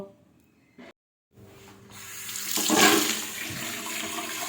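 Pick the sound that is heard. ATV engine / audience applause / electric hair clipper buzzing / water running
water running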